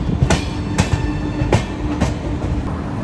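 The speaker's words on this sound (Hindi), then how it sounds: "ये अपनी ट्रेन एंटर कर रही है," The Sanghamitra Express rolls into Jolarpettai junction, its wheels striking rail joints in a steady, evenly spaced clickety-clack, loud and close with a constant rumble beneath and no voices.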